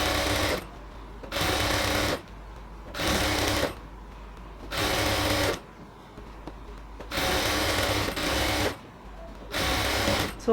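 A sewing machine stitches along the middle of stretched elastic at the waistband of ladies' pants, running in six or seven steady bursts of a couple of seconds each with short pauses between.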